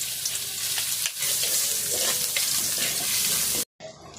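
Oil sizzles loudly in a pan while aromatics are sautéed before onion and meat go in, a steady crackling hiss with small stirring scrapes that cuts off abruptly near the end.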